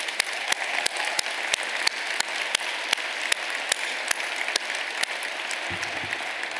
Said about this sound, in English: And yes, let's clap.